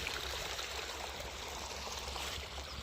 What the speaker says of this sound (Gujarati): અહીંયાથી પાણી જાય આમ વાડીમાં।